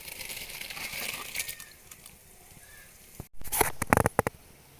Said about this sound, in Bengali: চালগুলো এবার দিয়ে দেবো।